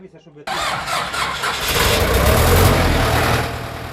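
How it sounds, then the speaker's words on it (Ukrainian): A new diesel fire truck engine cranks and catches after a short quiet start, then settles into a loud, steady rumbling idle close by, with voices audible early on. "для оновленої пожежної частини придбали новий пожежний автомобіль"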